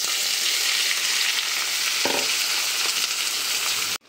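Onion fries in hot oil with whole garam masala, bay leaf and dry red chilli, giving a loud, steady sizzle close by for about four seconds before cutting off abruptly, with no talk.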